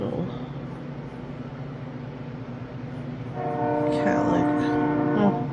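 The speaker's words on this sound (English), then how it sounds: "There's the train." A train rumbles past steadily, then its horn blares loud and sustained over the rolling noise near the end.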